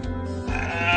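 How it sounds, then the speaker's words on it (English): A single drawn-out sheep bleat, loud and close, with a wavering nasal tone lasting about a second. "Yes, it's a sheep."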